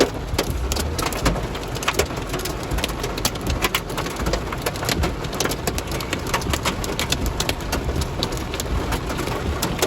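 Heavy rain and hailstones pelting a car during a drive in a hailstorm, a dense, continuous drumming of many sharp impacts on the roof and body, steady and loud throughout, with no talk.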